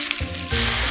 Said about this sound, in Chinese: 我们要把茄子侧面也要煎一下